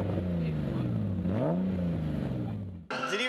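Modified drift car with a powerful engine, hydraulic handbrake and locking differential, revving hard with rising and falling pitch, loud and close, then a sharp shift to a higher scream near the end.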